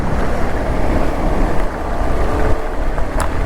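Floodwater from an overflowing drain near Kengeri rushes and splashes over an adventure motorbike, a loud continuous churning wash with buffeting wind-like noise and no speech.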